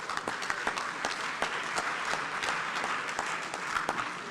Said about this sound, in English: Please, with a round of applause, make welcome the Chief of Staff of the Republic, the Honorable Dr. Julius Debra.